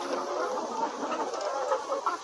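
Layer hens on a poultry farm, recovering from a cholera outbreak, cluck together in a dense, continuous chorus of overlapping calls, close and moderately loud.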